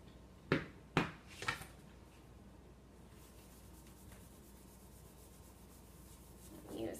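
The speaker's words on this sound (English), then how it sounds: "I'm just going to kind of rub it on there and get some of the cleaning paste." A wet cloth rubs cleaning paste onto a surface, giving a few sharp scuffing strokes early on, then a long quiet stretch with a faint swell of rubbing near the end.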